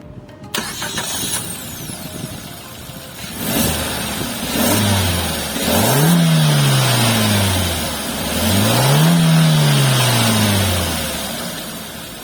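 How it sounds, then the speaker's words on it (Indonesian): A Suzuki Ertiga GL car engine cranks and starts, then revs up and down twice in rising and falling sweeps before settling, loud and close. "Dan sekarang kita pengen coba startup dulu, kita dengar suaranya kayak apa sih"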